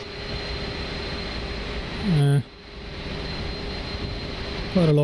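Steady jet engine hum and whine from an Inibuilds A310 airliner taxiing in Microsoft Flight Simulator 2024, a constant drone with two short cockpit chime tones, no talking.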